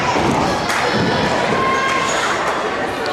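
Mount Pleasant fans cheer in the Sulphur Springs High School main gym during a girls' volleyball match: a loud, steady crowd roar with scattered thumps and shouts throughout.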